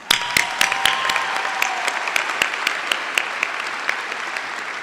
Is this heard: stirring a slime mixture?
no